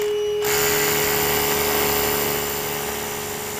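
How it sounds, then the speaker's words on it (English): A power drill starts abruptly and whines steadily at close range, boring a 3/4-inch hole into a concrete floor slab, grinding continuously with a strong tonal hum before easing off slightly. "I'm now going to drill a 3/4-inch diameter to a depth of 2 inches."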